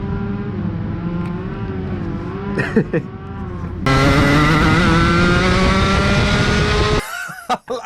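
Senior Rotax Max Tonykart go-karts race wheel to wheel on a kart track during a pass, with a steady high-pitched two-stroke engine drone that jumps louder as another kart closes in, then cuts off abruptly near the end.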